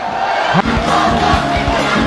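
A dense crowd of supporters at a Muay Thai championship bout roars and chants continuously, loud and close, with rhythmic surges in the cheering.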